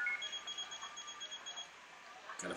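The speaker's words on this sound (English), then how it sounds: "Got a phone ringing." Ringing electronic phone tone from a Tekken 7 character reveal trailer, a steady warbling high-pitched ring held for a couple of seconds before cutting off, moderately loud with no voices over it.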